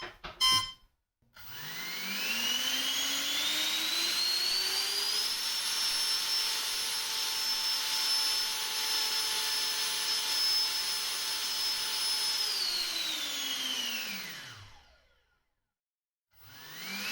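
An electric ducted fan with a variable nozzle, driven by a 2500 kv motor on a 4S battery, spools up into a loud, steady high-pitched whine, holds at full throttle, then winds down to silence.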